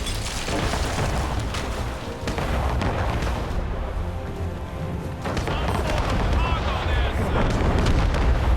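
Ship cannons firing in the Assassin's Creed Rogue video game, heavy booming broadside blasts and rumbling roar filling the mix, loud and continuous with a brief dip in the middle before surging again.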